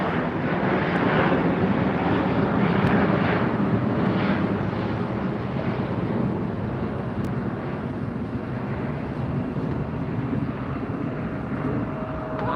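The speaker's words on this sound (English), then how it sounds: "Got a few folks here plane spotting, watching the planes go in and out." Jet aircraft engines roar steadily at LAX airport as planes take off and land, a continuous broadband rumble that stays loud and even throughout without voices.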